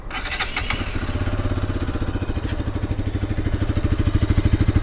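A 2024 Bajaj Pulsar RS 200 motorcycle engine cranks and catches, then settles into a steady, close, pulsing idle that grows slightly louder, with no voices.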